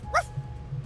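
A dog in the game Date Everything gives a single short, sharp bark near the start, followed by quieter low background sound and no talking.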